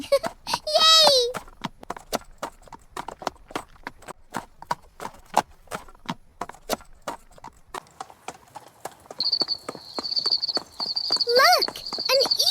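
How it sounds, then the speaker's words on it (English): Steady rhythmic clip-clop of a cartoon horse's hooves at a brisk trot, with a high whinny-like cry at the start and again near the end. "Let's go for a horse ride."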